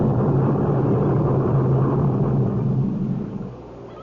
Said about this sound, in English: The ground's beginning to shake. Feels like the whole mountain's exploding.